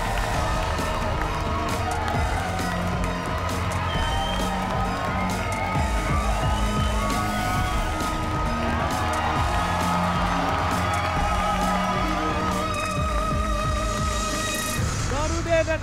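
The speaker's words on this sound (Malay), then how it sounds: "Kita berikan tepukan gemuruh untuk Noruddin dan juga Aisyah." Studio audience on a Malaysian money-drop game show applauding and cheering, a loud, dense, continuous wash of clapping and whoops that runs throughout with a host's voice over it.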